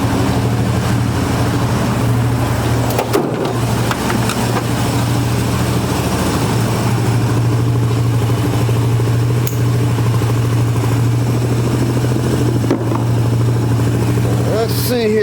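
Small engine of a Suzuki LTZ250 Sport quad bike running steadily at a fast idle inside a garage, a constant low hum throughout with a person talking over it.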